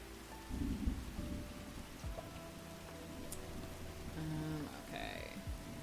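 Steady rain falls with a low rumble of thunder underneath, a continuous wash of patter and a few brief chirps or creaks over it, with no talking.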